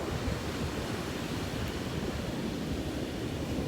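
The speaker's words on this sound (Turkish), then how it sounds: "Çok fazla rüzgar ve dalga sesi var." Strong wind buffets the microphone over continuous rushing surf, a dense steady roar with no voices.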